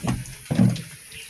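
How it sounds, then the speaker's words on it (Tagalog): Water runs from a shared tap in a rural village in two short splashing bursts, close and fairly loud, with no voices. "Dito ang igiba namin, ganito ang gripo."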